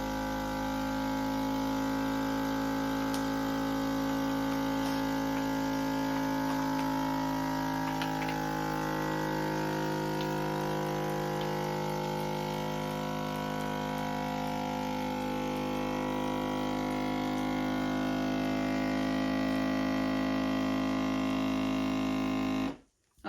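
A countertop vacuum sealer draws air out of an OUT OF AIR food storage bag with a loud, steady motor-and-pump drone that runs without a break for over twenty seconds, then cuts off abruptly at the end.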